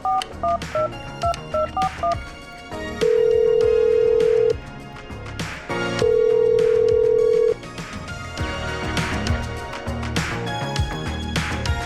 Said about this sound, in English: Okay, I'm dialing.